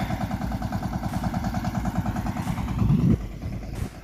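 A close, steady chugging tractor engine in a farm field runs throughout with a rapid rhythmic thump, loud and continuous, with a brief surge near the end.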